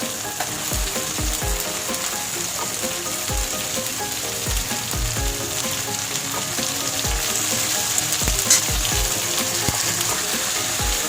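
Bombay duck fish frying with tomatoes in a pan, a loud continuous sizzle with repeated soft thuds and scrapes of stirring throughout, no talking.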